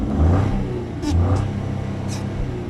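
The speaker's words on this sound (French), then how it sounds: "On va accélérer un petit peu, voir quelques accélérations" A new Opel Corsa engine in normal mode revving in a few short accelerations, a close, loud mid-pitched rumble that swells and eases twice, with no talking.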